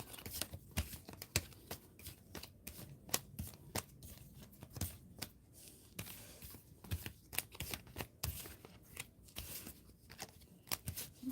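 Tarot cards being picked up, shuffled and handled on a table, giving a steady run of soft riffles, slaps and papery clicks at close range with no talking.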